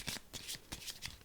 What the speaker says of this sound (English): Okay, so I'm going to shuffle the cards.